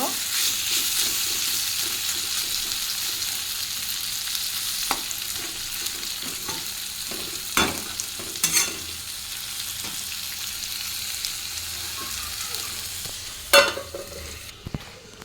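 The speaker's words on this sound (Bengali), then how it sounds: "পটলটা আমি ভালো করে কষাই করে নেব" Pointed gourd (potol) fries in a pan with a continuous moderate sizzle, punctuated by occasional clanks and scrapes of a spatula stirring, with faint speech in the background.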